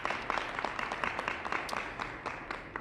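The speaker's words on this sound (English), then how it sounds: "If we give him another round of applause." A modest round of audience applause at an Illinois event on early childhood education, fairly quiet, with individual claps standing out in an uneven patter.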